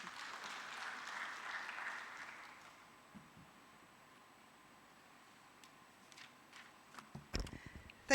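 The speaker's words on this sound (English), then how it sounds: "Let's give them another round of applause." Applause from a conference audience for presenters and panelists, a burst of clapping that fades within a few seconds, then quiet room tone with a few sharp knocks and handling noises near the end.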